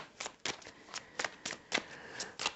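Tarot cards being shuffled by hand, a quiet series of crisp, snappy riffles and taps repeating at an uneven rhythm, close by.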